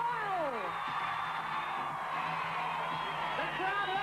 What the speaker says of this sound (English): The crowd are absolutely loving it.